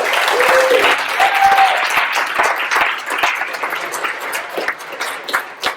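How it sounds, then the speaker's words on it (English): An audience at a keynote conference session breaks into a big round of applause. Dense, loud clapping carries on for several seconds and slowly thins toward the end. "Let's give one more big round of applause for Chloe."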